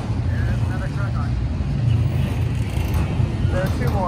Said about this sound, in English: There's another truck on.